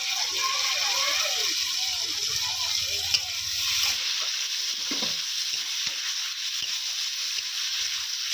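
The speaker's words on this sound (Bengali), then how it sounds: "এরপর টমেটো কুচি দিয়ে দেবো।" Chopped tomatoes go into a pan of lightly fried potatoes and onions, bringing a steady hissing sizzle with a few stirring knocks, with a voice speaking faintly during the first half.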